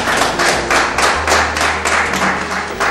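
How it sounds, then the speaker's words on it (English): Audience applause for Miss Nigeria 2003 at a formal event, a steady wash of many hands clapping in loose pulses, fairly loud and continuous, over a low background hum. "Please, a round of applause."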